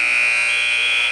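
A loud, steady electronic buzzer sounds alone for about a second, marking the end of a wrestling match period.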